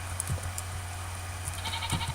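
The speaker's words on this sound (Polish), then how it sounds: "Brzydka koza." A goat in Minecraft gives a few short nasal bleats over a steady low game hum, moderately loud, with no talking.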